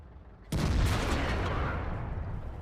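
A single heavy cannon shot from an IS-6 tank in the World of Tanks video game, a sudden booming blast at about half a second followed by a long rumbling decay that fills the rest of the moment.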